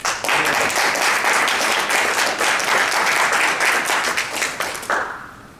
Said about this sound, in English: Please let's give Sister Johnson a round of applause.